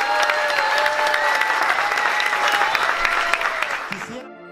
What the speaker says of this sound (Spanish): Aplauso para ellos, por favor.